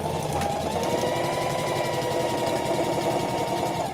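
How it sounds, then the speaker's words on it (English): A sewing machine stitches down fabric for a skirt, running steadily and close up with a continuous fast mechanical whir and no pauses. "So I'm gonna sew this down now."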